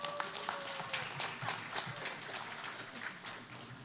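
Audience applause at a company anniversary worship service and seventieth birthday celebration in a banquet hall, a moderate wash of many hands clapping steadily, fading slightly toward the end.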